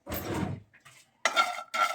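Dry-roasted ingredients for pumpkin soup rattle and scrape in a dry frying pan, in three short bursts of close crackling clatter separated by brief pauses.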